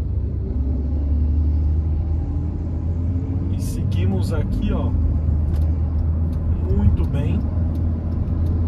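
Hyundai HB20 1.6 automatic driving on the road, with a steady low engine and road rumble throughout, heard from inside the cabin while someone talks over it.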